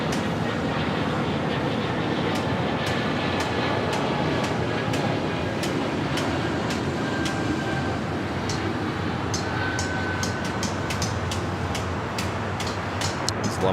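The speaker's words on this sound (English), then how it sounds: "Got the United Dreamliner up next." A United Boeing 787 Dreamliner jet takes off at LAX, a steady, loud, broad engine roar filling the whole stretch, with scattered sharp clicks over it.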